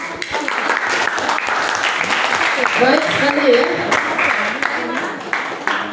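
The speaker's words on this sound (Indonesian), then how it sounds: "Tepuk tangan dulu buat" Classroom students applauding group 6 after their presentation, scattered clapping running throughout while a teacher speaks over it.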